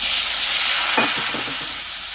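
Dried red chilli and tempering spices crackle in hot oil, then onion and green chilli paste hits the pan with a loud sizzle and stirring scrapes, close and steady, no voices, for a rohu fish curry with taro and potato.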